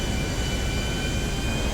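An airplane in flight, heard as a steady, loud, broadband engine roar that holds constant throughout with no talking.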